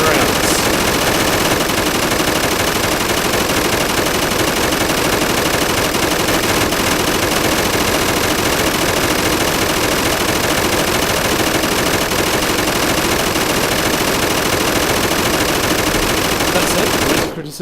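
A NiArms belt-fed machine gun in a modded video game fires in one long, unbroken burst of rapid, loud, evenly spaced shots that runs for about seventeen seconds before stopping abruptly.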